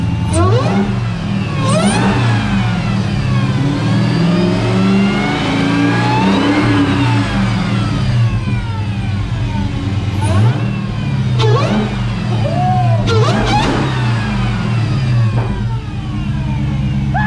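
A 2017 Dodge Charger Hellcat engine revs repeatedly up and down after a warm start, loud and close, with rising and falling whines and a few sharp backfire pops between revs.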